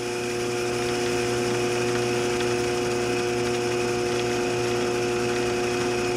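A ShopSmith 10ER woodworking machine runs at its higher speed, giving a steady, even motor hum and whine with strong constant tones. The sound is loud and close, continues without pause, and no one talks.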